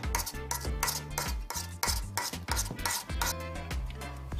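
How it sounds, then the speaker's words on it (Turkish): Butter and sugar for homemade butter cookie dough are whisked by hand in a bowl, giving a fast, steady run of scraping, clinking strokes, close and loud with no talk. "Ve tekrardan çırpma işlemine başlıyorum"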